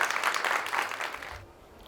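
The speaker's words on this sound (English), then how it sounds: "Can we have a big round of applause for Dr. Bhupinder Singh?" An audience applauds to welcome a scientist from the Indian Agricultural Research Institute to the stage at a talk on steel slag fertilizer, a steady round of clapping that fades away near the end.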